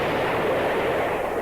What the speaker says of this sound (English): A drum roll and then the explosion.